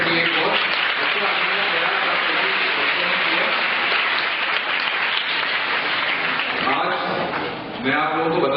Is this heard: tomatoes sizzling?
no